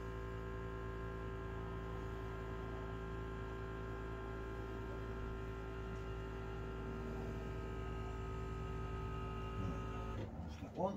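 A PerfectDraft beer machine hums steadily while a Hoegaarden beer is poured, with a constant whirring drone until a few clunks at the end.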